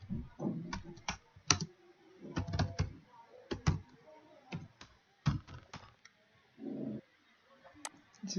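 Someone is typing code for a C++ program on a computer keyboard, giving irregular clusters of close, crisp key clicks separated by short pauses, with a brief low hum in between.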